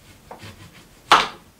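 A kitchen knife slices through an orange on a board: soft faint scraping, then one sharp, close cut that fades quickly.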